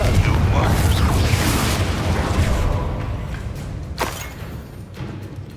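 A Confringo fire spell explodes in the Hogwarts Legacy video game, giving a loud, dense rumbling boom that fades slowly over several seconds. A few sharper magical bursts land near the end.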